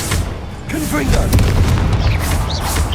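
The Confringo blasting spell explodes in Hogwarts Legacy, a loud, close, rumbling boom with a sustained low-end roar, layered over other game sound effects.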